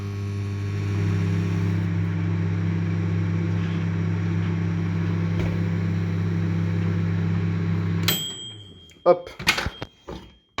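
A microwave oven with skateboard wheels inside hums steadily for about eight seconds, then stops with clicks and beeps, followed by a short spoken word.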